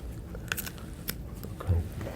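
Someone bites into and chews lotus seed pods up close, with a few crisp crunches and soft wet chewing sounds scattered over about two seconds, quiet and without speech.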